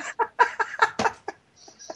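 A pet cockatiel chirps and calls in a quick run of short, bright, rhythmic notes, close and fairly clear, with a few higher whistles at the end.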